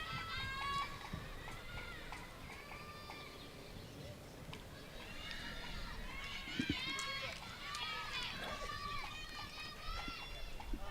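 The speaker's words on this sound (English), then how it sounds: "So that noise you can hear is, I can assure you, it's not the crowd. It's definitely the fielders." Fielding cricket players calling out on the field at a women's under-19 T20 World Cup qualifier between Indonesia and PNG, high chirpy shouts and cries scattered across the ground, faint and distant amid commentary.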